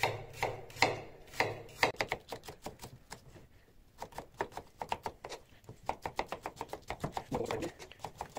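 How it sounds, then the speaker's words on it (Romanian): A knife chops smoked mackerel on a cutting board, with rapid, close, rhythmic knocks that come in uneven bursts and pause briefly, and no speech over them. "O să tai peștișor așa."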